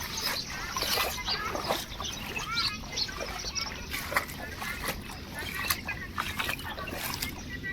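Floodwater runs through a village and into yards and houses at Mithapur, a steady rushing, splashing wash with broken trickles, close and continuous, while voices are faintly present underneath.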